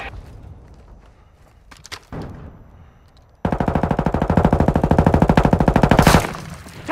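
Call of Duty DMZ gunfire: a few scattered shots, then a sustained rapid automatic burst of about three seconds, loud and close, ending in a trailing boom.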